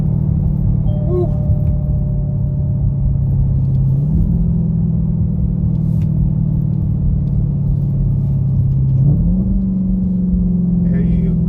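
A 2021 Dodge Charger Hellcat Widebody with its muffler deleted and a welded exhaust idles with a loud, steady low rumble, and the pitch steps up twice in short revs. It stays close and continuous, and there is no talking.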